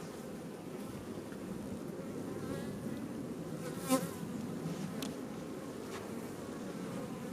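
Honey bees buzz steadily around an open hive during a brood inspection, a dense, continuous insect drone filling the scene with occasional louder passes close by.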